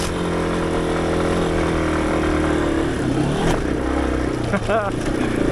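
A Yamaha XT250 motorcycle engine pulls steadily in second gear while climbing uphill, a loud continuous drone close by with a pitch shift partway through as the revs change, with a voice heard briefly over it.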